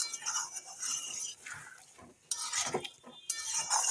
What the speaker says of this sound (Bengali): আর ভালো করে আলুর সঙ্গে মশলাগুলো আমি কষিয়ে নেবো